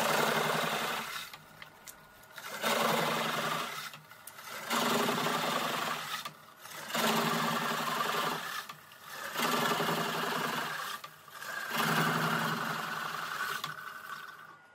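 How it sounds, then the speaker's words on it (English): Carbide cutter on a wood lathe turning a cedar burl produces a steady, buzzing cut in repeated passes, each lasting about two seconds with short quieter gaps between, close and fairly loud, with no speech. "I'm using the Corpro carbide cutter tip, and it just produces a much, much cleaner finish than the standard high-speed steel cutters"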